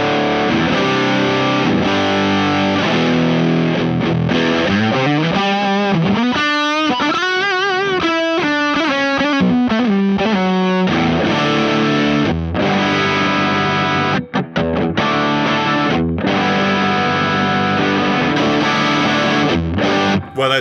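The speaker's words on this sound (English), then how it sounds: "Boost into overdrive, we get more sustain, more distortion, more everything." Electric guitar played through a Caline Andes boost pedal into an overdrive pedal, loud, heavily distorted sustained chords and ringing notes with a short bending lead phrase, no talking.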